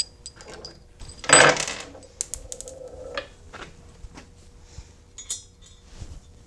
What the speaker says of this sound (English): Drop the washer in there. Drop the bolt down from the top.